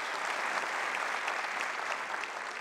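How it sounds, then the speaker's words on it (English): A church audience applauds new church planters with steady, dense clapping that holds at an even level throughout, moderately distant and with no voices rising above it. "Let's give them a hand clap of praise."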